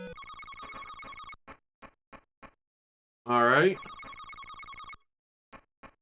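A telephone in the Game Gear game Chicago Syndicate (1995) rings in a bright electronic trill, stopping and starting in short repeated bursts. Someone briefly speaks partway through.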